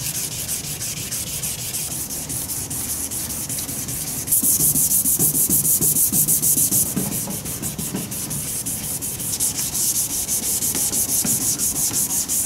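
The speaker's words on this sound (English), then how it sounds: "I'm going to sand to remove a clear film layer" Sandpaper rubs steadily across a car tail light lens to strip a clouded clear film layer, a continuous close scratchy rasp that grows louder and harsher midway, then eases slightly before strengthening again.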